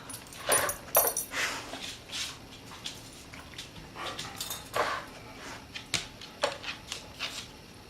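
Soft, high whines and whimpers from dogs come in short repeated bursts, mixed with scratching and shuffling noises nearby, fairly quiet overall.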